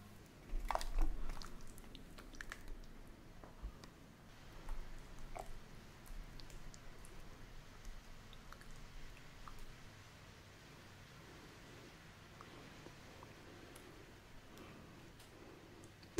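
Spicy Sinjeon tteokbokki rice cakes are chewed close to the microphone with soft, wet, quiet mastication; a few sharper bites come early before the sound settles into faint, steady chewing.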